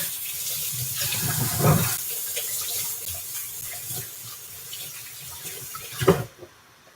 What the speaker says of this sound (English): Let me go rinse my fingers off